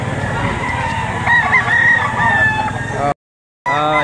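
A rooster crows loudly and close at a busy chicken auction market, its long call cutting through a dense din of other fowl clucking, before a brief silent break and more crowing.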